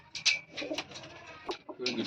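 Soft pigeon coos, a few short throaty calls spread across the moment, close by with light background noise.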